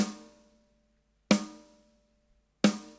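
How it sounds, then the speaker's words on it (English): Three snare hits from the ML Drums plugin by ML Sound Labs, evenly spaced about 1.3 seconds apart, each a bright crack with a ringing tone and a decaying tail, played alone. "the snare sounds really good for blending in"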